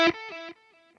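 Distorted electric guitar plays a short solo measure, a loud picked attack followed by a few sustained, harmonically rich notes that step down and fade out, alone with no talk.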